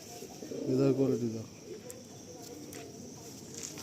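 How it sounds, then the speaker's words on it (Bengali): Pigeons coo in a loft, one low burbling coo that rises clearly near the start and then fades into quieter soft coos and a faint background hum. "অনেক পায়রা লফটে রয়েছে।"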